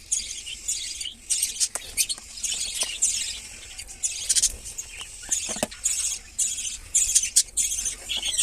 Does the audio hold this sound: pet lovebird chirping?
yes